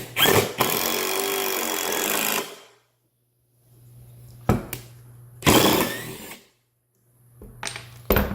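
A Black & Decker impact driver drives screws in loud close bursts: a long run at the start, then shorter pulls with quiet gaps and a low hum between them.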